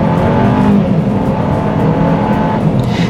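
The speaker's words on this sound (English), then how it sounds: "when you do put your foot down, it does make a relatively nice noise, at least as nice as a 4-cylinder can get" A MINI Countryman S four-cylinder engine pulls hard under full throttle from inside the car, a loud, revvy, continuous drone that holds steady throughout without any talking.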